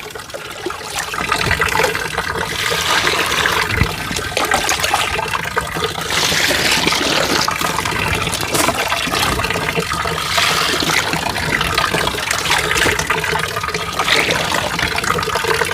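Water pours steadily into a basin to soak clothes for hand washing, a continuous close splashing and trickling that stays fairly loud for the whole stretch.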